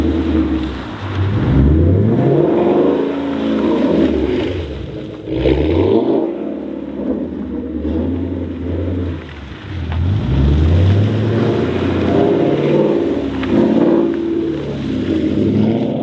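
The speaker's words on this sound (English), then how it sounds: "So I'm gonna give the car a little gas." A Ford Mustang with traction control engaged revs its engine while parked on snow. Its loud, close engine note rises and falls in repeated swells, with brief dips between pushes of the throttle.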